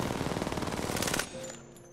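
Rapid automatic fire from the R99 submachine gun in Apex Legends, a dense continuous burst of quick shots lasting about a second before cutting off, followed by a short tail and a faint click.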